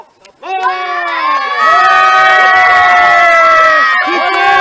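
A video game crowd loudly cheers and shouts as a militia passes, a sustained, swelling roar of many voices that starts after a brief quiet moment and holds steady to the end.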